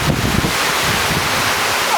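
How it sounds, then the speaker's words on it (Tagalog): Strong wind buffets the microphone in loud, continuous roaring gusts, with a wash like surf underneath. "Lakas ng hangin."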